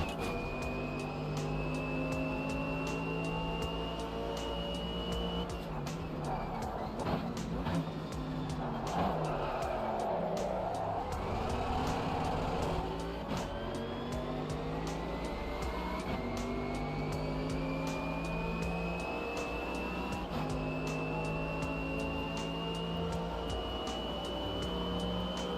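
A Mercedes GT3 race car in a racing game drones at high revs through long shifting pulls, its tyres squealing and scrubbing as it corners, close and continuous for the whole stretch.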